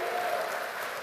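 A church congregation applauding, a dense, steady burst of clapping that fills the whole brief moment at close range without pause.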